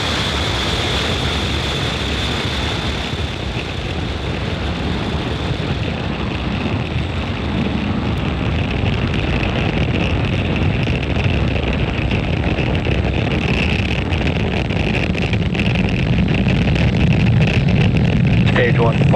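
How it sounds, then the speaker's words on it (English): A SpaceX Falcon 9 launching a Starlink mission from Space Launch Complex 40 at Cape Canaveral gives a continuous loud broadband roar with wind buffeting, while a commentator talks over it. "Falcon 9 has successfully lifted off from Space Launch Complex 40 in Cape Canaveral, Florida"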